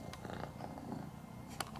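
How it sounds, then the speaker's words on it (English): A cat purrs steadily and close up, a soft continuous rumble with a faint click near the end. "So Bud basically always purrs, no matter what."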